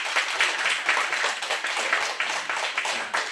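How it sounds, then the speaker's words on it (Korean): Congregation applause during a church service, a brisk, continuous round of many hands clapping at close range, steady and loud throughout with no talk over it. "자, 박수!"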